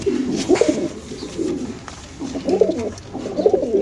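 A racer pigeon held in hand at a pigeon market coos in low, rolling bursts, two clear phrases separated by a short pause, close and fairly loud over faint background noise.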